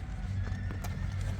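A 1.5-year-old bay horse with a blaze, brought from Russia and being sold, walks with steady hoof clip-clops that carry over a low rumbling background, and a brief whinny-like sound rises near the middle.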